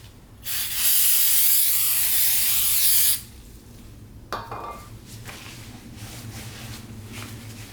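One long, loud hiss of brake cleaner sprayed from an aerosol can during brake work on a 1999 Mazda Miata lasts about three seconds, followed by quiet workshop clinks.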